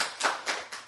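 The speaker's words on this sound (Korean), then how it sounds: "스님, 박수 한번 칠까요?" Hand clapping during a Buddhist lecture, a few quick claps in about a second, fairly soft and slightly distant in the room.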